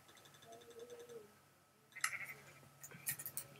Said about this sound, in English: Here we have a sheep